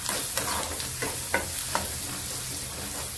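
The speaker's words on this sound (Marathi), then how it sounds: "परत एकदा तेलावरती कांदा चांगला परतून घ्यायचा." Onion stir-fried in oil, a steady close sizzle broken by a few sharp scrapes of a spatula against the pan.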